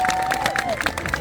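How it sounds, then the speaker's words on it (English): Crowd applause and cheering at a historic jousting show at a castle, a close, dense patter of clapping with a long tonal whistle-like note running through it. "A large round of applause for historic equitation."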